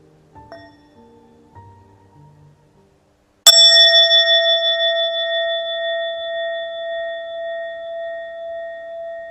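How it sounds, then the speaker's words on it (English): A single bell strike rings out loud and clear after some quiet shuffling, its bright metallic tone sustaining with a slow shimmering decay for several seconds. "May the sound of this bell go far and wide and touch all of our hearts."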